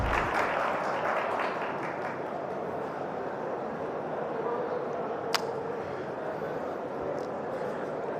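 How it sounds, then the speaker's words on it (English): Applause from an audience at the unveiling of the all-new Hyundai Creta, a steady, dense wash of clapping that holds at an even, moderate level for about eight seconds, with one sharp click partway through. "let's have a huge round of applause"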